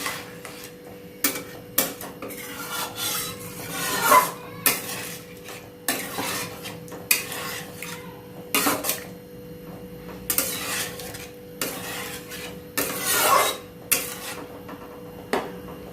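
Potato curry with water being stirred in a pot: irregular clinks and scrapes of a metal spoon against the vessel, repeated across the stretch alongside a steady low hum, with no talking.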